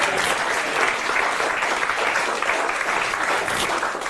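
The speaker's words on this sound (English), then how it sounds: "Give him a round of applause." An audience applauds a volunteer called up for a card trick, a loud, dense wash of clapping that holds steady throughout.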